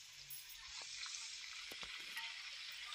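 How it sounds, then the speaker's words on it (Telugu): Salted eggplant pieces fry in oil in a pan with a faint, steady sizzle and a few light stirring knocks. "ఇవి కొంచెం ఫ్రై అయ్యేంత వరకు వేయించుకోండి."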